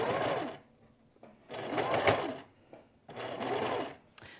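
A sewing machine stitching a quilt block in three close, loud runs of a few hundred milliseconds to a second each, its motor whirring and needle chattering rapidly, with brief quiet gaps between runs.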